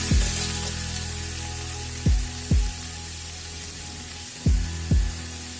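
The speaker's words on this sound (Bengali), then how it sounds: "আমার পেঁপেগুলো লাল লাল করে আমি ভেজে নিয়েছি আর ওখান দিয়ে দিলাম আমি কেটে ধুয়ে রাখা থুরগুলো এগুলো দিয়ে আমি একটু ভালো করে নেড়ে চেড়ে নেবো" Chunks of papaya and banana stem fried in a pan and stirred, giving a steady sizzle with a few sharp clanks of a spoon against metal, close and alone.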